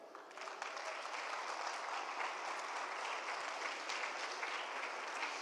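A church congregation claps together in a steady, dense burst of applause, moderately distant and holding evenly throughout without any speech.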